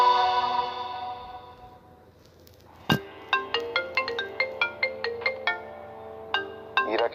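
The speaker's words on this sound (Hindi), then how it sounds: "हीरा के दादाजी मिस्टर कपूर का फोन आ रहा है।" A phone ringtone plays as a melodic run of bright chiming notes that starts with a sharp hit and then repeats in quick even pulses, loud and clear after a fading tone and a short lull.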